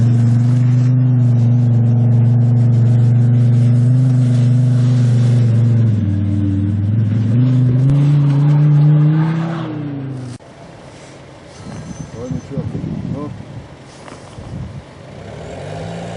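A car engine drives up a dirt hill, loud and close, holding a steady strained drone that shifts pitch and revs, then cuts abruptly to a quieter, rougher rumble with gravelly noise.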